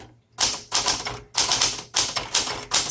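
A 1969 Smith Corona Super Sterling manual typewriter is typed on steadily. Loud, close clacking keystrokes come in several clustered bursts separated by brief pauses, with no voices.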